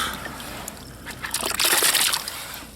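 Freshly caught gilt-head bream flapping in water, heard as irregular sloshing and splashing that grows busier and louder toward the end, close by over a steady outdoor background.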